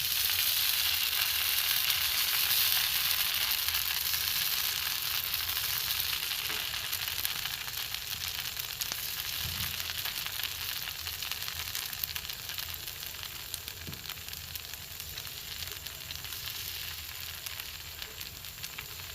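Hand-sprinkled rice pitha batter frying in hot oil, a steady, close sizzle with a dense hiss that fades slightly over time, no voices.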